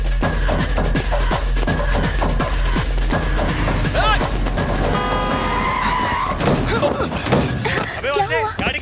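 Car skidding to a halt on a street, a loud tyre screech and engine noise under shouting voices and dramatic music.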